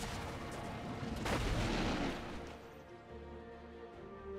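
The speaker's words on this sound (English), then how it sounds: "Red team's turret has been destroyed." A deep booming blast marks a turret's destruction in League of Legends, swelling briefly in the middle and fading into a low rumble, alone with no talk.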